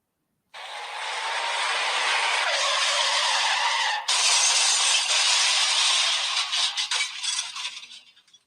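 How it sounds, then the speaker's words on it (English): Car crash sound effect: a sudden burst of harsh broadband screeching and grinding that holds loud and steady, breaks sharply midway, then continues with scraping and crunching debris that tapers off and cuts out. "another car crash sound to make my point even clearer"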